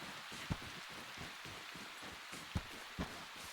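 Rain mixed with snow falls in a survival video game, a soft, steady, quiet hiss with a few brief louder drops standing out.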